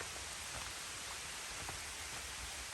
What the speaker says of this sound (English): The canopy is protecting us from the rain.